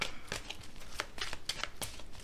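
Tarot cards are handled and drawn from the deck, a series of quick, crisp papery flicks and slides close by, with a quiet voice now and then.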